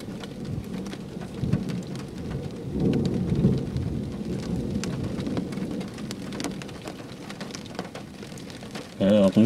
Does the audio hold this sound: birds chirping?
no